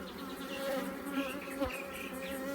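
Honey bees hum around an open Flow Hive during an inspection, a steady close buzz with individual bees flying past the microphone and no talk.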